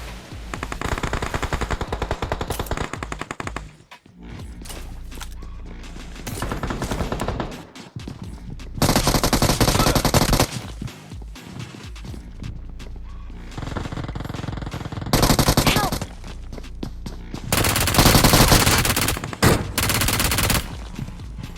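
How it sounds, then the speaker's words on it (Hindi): Enemy gunfire in a battle royale video game, with dense machine-gun bursts and repeated volleys from above, loud and continuous, coming in several heavy waves. "अब ये पोरे ऊपर से बहुत जोर से गोली चला रहे होते"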